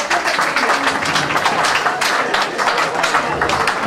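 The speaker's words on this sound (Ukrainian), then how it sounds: "Честь і хвала, оплески!" Lively applause from a festive crowd at a Ukrainian table party, loud, dense clapping with sharp individual claps standing out, a few voices mixed in beneath.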